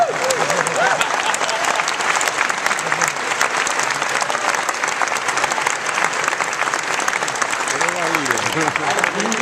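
A Google I/O 2010 keynote audience breaks into loud, sustained applause and cheering, a dense wash of clapping that fills the hall, with a voice briefly audible near the end.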